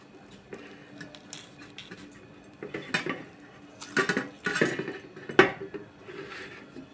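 A knife slicing a pomelo into segments on a board, with soft cutting and clicking contacts building to several sharper knocks near the end, close and fairly quiet.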